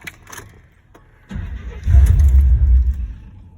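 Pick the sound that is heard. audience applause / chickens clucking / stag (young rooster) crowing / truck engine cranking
truck engine cranking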